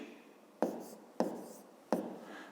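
A pen writes by hand on paper during a fifth-grade math exercise, with three sharp taps and short scratchy strokes, quiet and close, with no talk.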